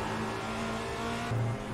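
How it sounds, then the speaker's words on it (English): IR04 race car in the iRacing sim, with a steady, loud, droning engine note and a high whistle running behind it. The sustained pitch stays constant and then shifts slightly near the end, with no voices. "listen to that engine note with the whistle going on behind us"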